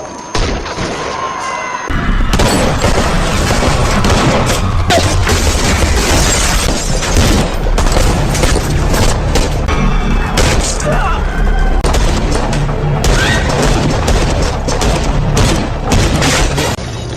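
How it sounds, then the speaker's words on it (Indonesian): Gunfire bursts through an action sequence in the film SPL 2, with loud booms, shattering and heavy impacts mixed with dense effects and music. "aksi tembak-tembakan pun terjadi"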